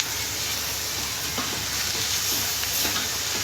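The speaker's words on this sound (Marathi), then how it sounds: "आधी पूर्ण कांदा आपला हलवून घेऊ" Onions with turmeric sizzle steadily in a pan while being stirred, a constant bright frying hiss with a few soft scraping clicks from the stirring, close and even throughout.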